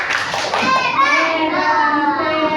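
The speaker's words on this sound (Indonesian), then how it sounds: "kita kasih tepuk hebat" A group of Indonesian schoolchildren chant and clap together in a 'tepuk hebat' praise clap, voices loud and close with rhythmic sung syllables over light hand claps.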